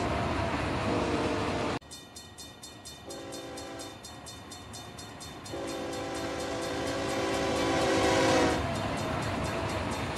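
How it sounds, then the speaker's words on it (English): A video game train in Run8 Train Simulator rumbles past with rhythmic clickety-clack, its horn sounding in long sustained blasts that swell louder before fading. "that train that just passed us is long gone"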